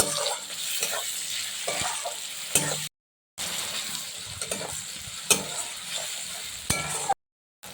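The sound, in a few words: tomatoes frying with onion and crushed garlic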